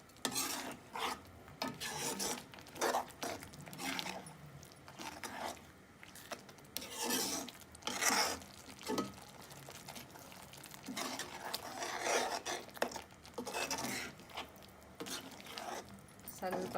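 Cashew paste being stirred into paneer butter masala gravy in a pan, giving repeated soft scraping and squelching strokes with a faint sizzle, close and steady over most of the stretch, partly under talking.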